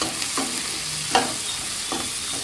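Onions and spices fry for mutton korma, with a soft steady sizzle and a few scrapes of stirring in the pan.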